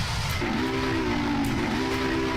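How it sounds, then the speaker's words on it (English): Steam whistle of a Union Pacific FEF-3 locomotive in Train Simulator, one sustained steady blast lasting nearly two seconds, loud over continuous rumbling engine and track noise. "I forgot to blow the whistle."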